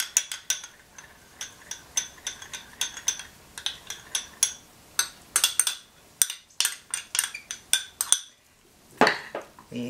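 A radish, dill, cucumber and avocado salad with dressing is tossed in a bowl, the utensils clinking and scraping against the dish in quick, irregular bursts, close and fairly loud with no talking.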